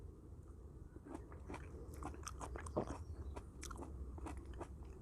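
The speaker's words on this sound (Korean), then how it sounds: "자, 한라봉을 한번 먹어보겠습니다." Someone bites into and chews a juicy Hallabong citrus, with close, wet crunches and repeated chewing clicks in a soft, quiet setting, no talk.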